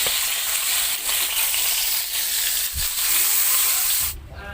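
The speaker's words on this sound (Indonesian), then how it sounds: "ini mau aku goreng setengah matang aja supaya dagingnya nanti tetap lembut" Catfish frying in hot oil, cooked only half-done: a steady, close sizzling hiss that holds for several seconds, then cuts off abruptly near the end, with no talking.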